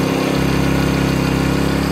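A Sportsman GEN1000i inverter generator idles on economy throttle, its small engine giving a steady, even mid-pitched drone with a fine pulsing vibration, close and constant without talk.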